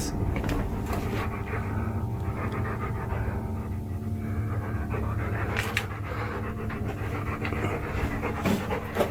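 A dog pants steadily and close by for the whole stretch, a continuous rhythmic breathing over a dense, busy background rumble, with no talk.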